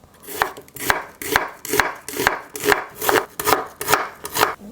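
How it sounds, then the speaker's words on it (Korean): Knife chops half an onion into thin strips on a cutting board, about ten evenly spaced crisp taps in a steady rhythm, close and clear with no talking. "양파 2분의 1쪽 채 썰어주세요"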